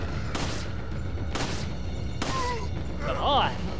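Three sharp gunshots spaced about a second apart in Resident Evil 4 Wii Edition, fired at flying sickles, then a brief whooshing swirl, all over steady game background.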